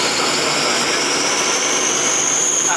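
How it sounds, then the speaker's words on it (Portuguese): Turbocharged engine of a Marcopolo Ideale 770 bus with a punctured turbo hose, giving a loud, constant whooshing roar with a high whistling hiss throughout, close up and without talk. "A mangueira da turbina furada."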